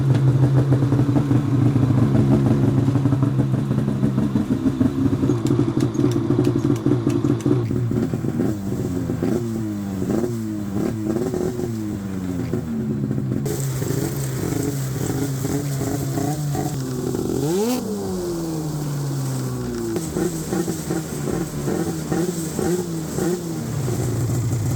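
A short track mountain snowmobile engine starts and settles into a rough idle, then revs repeatedly in rising and falling bursts, loud and close, with no talking.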